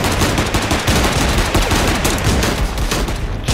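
Rapid, dense gunfire from a gun in the video game Cactus Cowboy, loud and continuous with overlapping shots and no pauses throughout.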